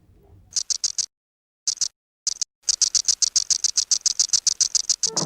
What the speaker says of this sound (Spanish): Una membrana ondulada es frotada con un apéndice móvil muy duro.